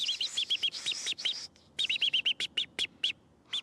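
A person imitates a robin's alarm call, a series of sharp, high, whistled chirps in two quick bursts separated by a short pause, close and clear.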